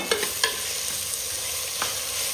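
Onions and tomato fry in a pan with a soft continuous sizzle, broken by a few sharp scrapes and knocks of the stirring spoon.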